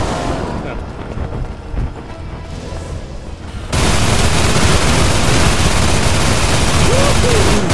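A Gatling gun fires in the co-op shooter game Hell's Reach, starting halfway through as a loud, dense, continuous roar of rapid gunfire, following quieter game sounds.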